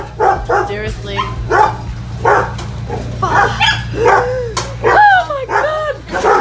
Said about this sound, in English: these dogs are so scary